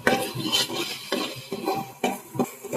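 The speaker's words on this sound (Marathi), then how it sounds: "व्यवस्थित कांदा भाजून घ्यायचा आहे ना" Chopped onions roasting in a pan while being stirred with a utensil, giving repeated scraping and clinking strokes in an uneven rhythm over a soft sizzle, close by and fairly loud.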